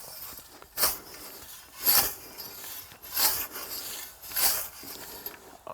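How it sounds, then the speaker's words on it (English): A scythe blade is sharpened with steady, rhythmic rasping strokes, about five of them spaced roughly a second apart, close and moderately quiet with no talking. "Oh, I need to sharpen more."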